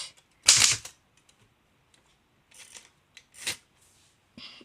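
Vintage typewriter keys strike in separate bursts: one loud clattering flurry near the start, then a few quieter sharp clacks spread out with pauses between, close by and with no voices.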